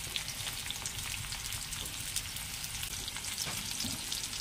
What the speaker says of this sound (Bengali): তেজপাতা দিলাম, পেঁয়াজ দিলাম।